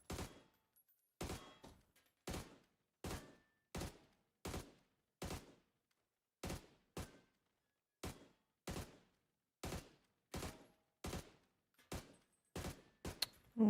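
Gunfire in PUBG: a long series of single sharp shots spaced roughly half a second to a second apart, loud and isolated against near silence, a few quicker pairs near the end.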